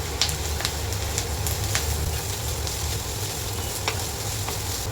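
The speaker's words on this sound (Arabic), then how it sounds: "بعد ما شوحت في الجزر شويه كده، يعني حوالي دقيقتين 3" Finely grated carrots sizzle and fry steadily in a pan, a constant close hiss with a few faint clicks of stirring, no voices.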